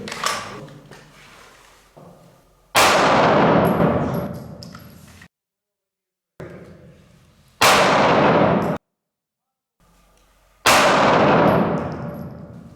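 Pistol shots fired during a defensive combat shooting drill practising trigger-pull technique: three loud, sharp reports spaced a few seconds apart, each ringing out and decaying, with quieter handling noise and short silences between them.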